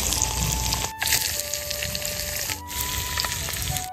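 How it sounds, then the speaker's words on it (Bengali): Tiny toy fish frying in a miniature pan heated by a candle, giving a steady, soft sizzle and crackle throughout, with faint high tones running beneath and two brief dips in level. "তোমরা দেখছো কত সুন্দরভাবে আমাদের ছোট ছোট পুতুলের মাছ ভাজা হচ্ছে"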